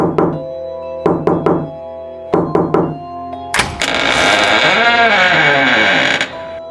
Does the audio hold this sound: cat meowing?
no